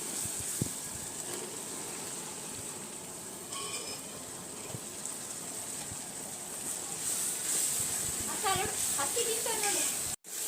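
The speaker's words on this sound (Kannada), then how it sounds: "ಕಟ್ ಮಾಡ್ಕೊಂಡಿರೋಂಥ ತರಕಾರಿನ ಮಿಕ್ಸ್ನ ಹಾಕ್ತಾ ಇದ್ದೀನಿ ಇದಕ್ಕೆ." Chopped mixed vegetables tossed into a hot pan for vegetable pulao, filling the space with a steady close hiss and sizzle, with occasional stirring scrapes and a brief burst of brighter crackle near the end.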